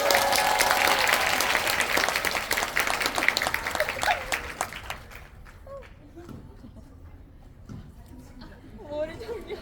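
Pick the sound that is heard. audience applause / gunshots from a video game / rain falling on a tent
audience applause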